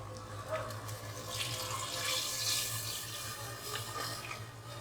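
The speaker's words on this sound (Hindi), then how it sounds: "इतना पानी आप ऐड करें" Water poured into a pot of Chinioti mutton kunna being cooked in a kitchen: a steady, close splashing and trickling stream with faint drips, heard alone without talk.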